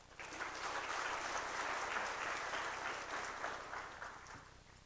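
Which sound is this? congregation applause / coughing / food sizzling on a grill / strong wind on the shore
congregation applause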